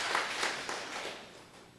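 Congregation clapping together during a church worship service, a brief burst of scattered hand claps that fades over a couple of seconds, moderately distant in a reverberant hall.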